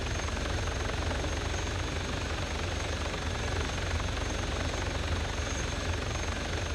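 Helicopter flying in a video game, a constant dense rotor and engine roar with fast chopping pulses, loud and unbroken throughout, no voices.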